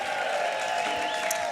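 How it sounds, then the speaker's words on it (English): A short burst of crowd applause for bluegrass acts at a live Music City Roots show at City Winery, steady and fairly loud beneath a faint sustained tone. "Let's give them all a big round of applause."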